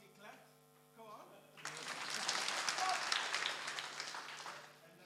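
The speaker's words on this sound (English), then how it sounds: "And then everybody clap." An audience at a conference opening session breaks into clapping after a brief stretch of talk, the applause swelling into a full, dense wash of hands for about three seconds and then easing off.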